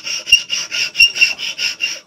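A file rasps back and forth across the black padouk wood handle of an Opinel No. 08 knife, about nine even strokes in quick rhythm, close and crisp, with no talk.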